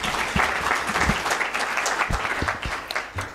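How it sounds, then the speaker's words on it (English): Sustained audience applause for the panelists at a conference session on data, policing and privacy, with dense, even clapping throughout and a few sharper claps standing out near the front. "Another round of applause for our panelists."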